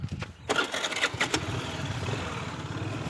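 A scooter engine starts up with a brief cranking burst, then settles into a steady, moderately quiet idle that continues to the end.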